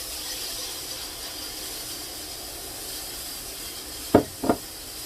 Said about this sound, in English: Woo, that's steam.